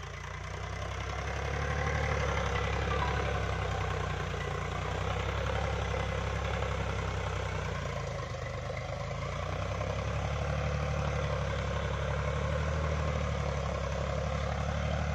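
A Powertrac tractor engine runs steadily in a low, heavy drone with a knocking idle rhythm, loud and close throughout with no speech over it.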